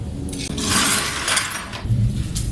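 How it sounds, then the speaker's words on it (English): Broken glass being picked up in a garage, with shards clinking and scraping against each other in close, irregular bursts, and no talking. "picking up a bunch of broken glass all over the place"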